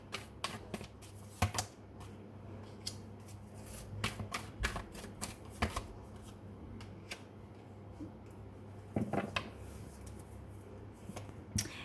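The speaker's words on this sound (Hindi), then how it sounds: "और कार्ड्स निकालने हैं मुझे" Tarot cards being shuffled by hand close up, giving quiet, irregular bursts of crisp riffling and slapping clicks with short pauses between them and no talking.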